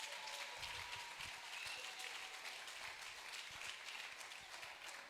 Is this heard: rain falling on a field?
no